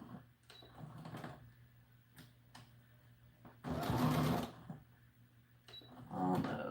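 A sewing machine runs in short bursts while stitching a dress for an American Girl doll, with two louder, denser runs standing out against quieter mechanical clicks and handling noise at close range.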